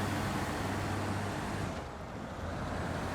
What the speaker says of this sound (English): And this truck is very loud.